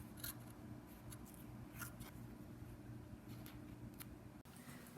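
Scissors cut square corners out of a piece of fabric for a bench or box cushion cover, giving soft, close snips spaced every half second or so over a quiet room, with a louder rustle at the end.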